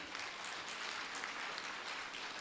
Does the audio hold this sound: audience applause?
yes